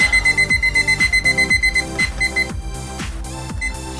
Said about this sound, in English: I like to set my timer for about 35 minutes.